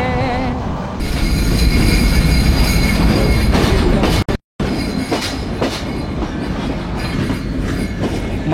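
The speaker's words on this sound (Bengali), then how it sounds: "ট্রেন এখন যশোর জংশন প্ল্যাটফর্মে 1 নম্বর প্ল্যাটফর্মে প্রবেশ করছে।" A passenger train pulling into platform 1 at Jashore Junction in Bangladesh: loud rumbling wheels, clickety-clack over rail joints and shrill wheel squeals, close by, with a brief dropout midway.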